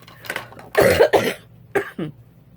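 Several close, harsh coughs in short bursts, with quiet pauses between them.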